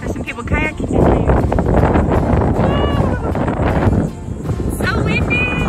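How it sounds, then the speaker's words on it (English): Strong gusting wind at the coast, by a beach, buffets the microphone in a loud, continuous roar, with voices speaking over it. "So windy!"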